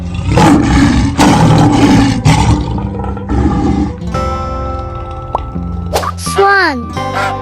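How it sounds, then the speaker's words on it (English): A loud lion roar opens the clip with rough bursts, followed by other game-style effects such as plops and whooping tones, while someone speaks over part of it. "Lion."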